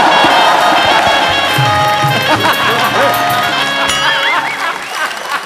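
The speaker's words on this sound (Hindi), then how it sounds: "तालियां बजाना।" A comedy show studio audience claps and cheers in a loud, continuous wash of applause, with speech running over it and the clapping easing slightly toward the end.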